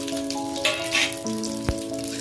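Black mustard seeds, dried red chillies, a bay leaf and ginger crackle and sizzle in hot oil for shukto dal, with a few louder pops and spits over steady frying, close by.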